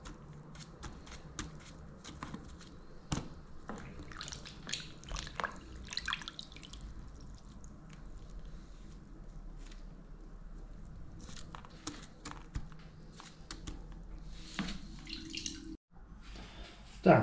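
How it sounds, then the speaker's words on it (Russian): Water running and dripping into a bucket of mushrooms being rinsed a second time, with scattered splashes, drips and light handling clatter close by over a steady wet background. "Мы их еще раз здесь зальем водой, это будет вторая промывка."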